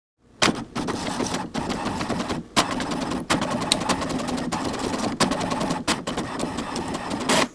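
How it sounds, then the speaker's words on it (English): Home inkjet-style printer running off a document at close range, a steady mechanical whir and chatter broken by several brief pauses and jolts as the print head and paper feed start and stop, with no talking. "you'll go ahead and send it to your regular printer"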